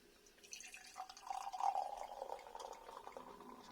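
Welsh Mountain Cider Pippin pet nat, a 2020 sparkling cider, poured into a glass: a steady liquid pour swelling midway with fizzy, bubbly texture, close and fairly quiet, no talking.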